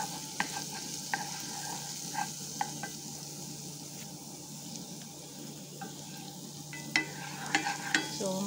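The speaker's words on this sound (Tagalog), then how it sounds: "gusto ko kasi yung bawang brown siya bago ilagay yung sibuyas" Garlic browns in hot oil in a pan, a low continuous sizzle with scattered sharp spatters and a few clinks of a utensil, growing busier near the end, with no one talking.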